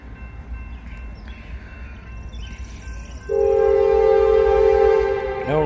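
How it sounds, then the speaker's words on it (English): A long freight train approaches a level crossing in Hamilton with a low rumble, then a loud, sustained horn blast sounds close by over the rolling rail noise. "first actual long train of the day, headed this way now."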